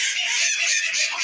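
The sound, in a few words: Pekin bantam hen clucking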